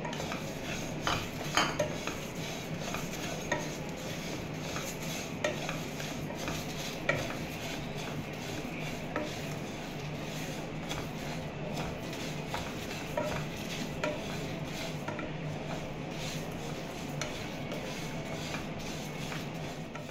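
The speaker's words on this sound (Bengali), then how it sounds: "এর মধ্যে এবার দিয়ে দেব আমি সাদা সর্ষে।" White mustard seeds and spices dry-roasting in a pan for jackfruit pickle, stirred continuously with a utensil, giving a steady soft rattle and scrape with a faint sizzle, close and even, no voices.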